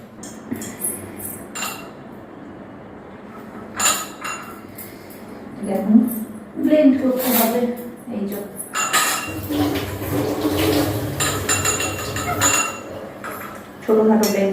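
Batter with spices and baking soda is mixed in a bowl for eggplant fritters, with clinking and scraping of a spoon against the dish in irregular bursts, close by, alongside some speech.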